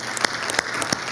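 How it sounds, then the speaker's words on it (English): A congregation applauds itself, a brief stretch of dense clapping with a few sharper, louder claps standing out near the listener. "Can we clap for yourself,"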